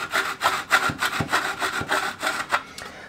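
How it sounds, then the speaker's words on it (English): A steel plastering trowel edge scrapes excess plaster off a wall edge in a series of rhythmic, close rasping strokes, about a dozen in quick succession, with no talking. "with the head of your trowel, it's the very head of your trowel. Scrape the excess."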